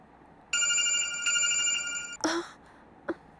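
A phone rings with a bright, trilling electronic tone for a couple of seconds, then cuts off, followed by a clunk and a brief click.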